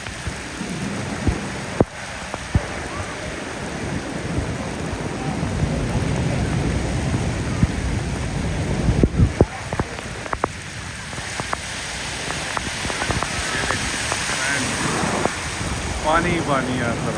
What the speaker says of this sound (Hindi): Heavy rain.